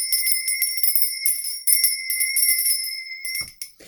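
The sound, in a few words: hand bell ringing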